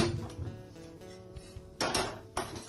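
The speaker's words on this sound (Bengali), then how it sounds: "কড়াই বসিয়েছি" Metal clanks and scrapes of a wok set down on a gas stove, a few sharp knocks against a low background hum.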